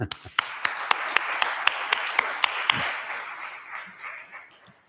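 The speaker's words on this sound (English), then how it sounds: "let's give a warm round of applause to our favorite octogenarian, Bill Cook" Applause from an audience gathered in Aspen greets octogenarian speaker Bill Cook, beginning with a run of sharp, evenly spaced claps that blend into a broad wash of clapping and then gradually fade.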